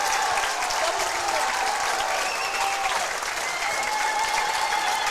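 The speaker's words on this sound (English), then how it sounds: "a round of applause from the crowd here" Crowd at a girls' high school basketball game, Calvert versus Vanlue, applauding steadily and fairly loudly throughout, a dense continuous wash of clapping with some crowd murmur.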